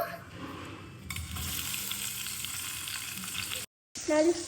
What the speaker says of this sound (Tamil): நல்லா கோல்டன் கலர் வரைக்கும் வறுக்குங்க.